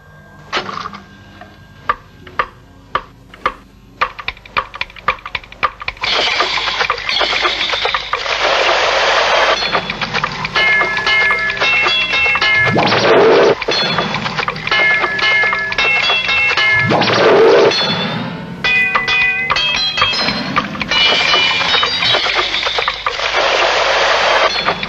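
A tape-recorder sound collage built from bits played backwards, forwards and at the wrong speed, loud and dense, with sharp clicks and knocks leading into layered tonal smears and swells.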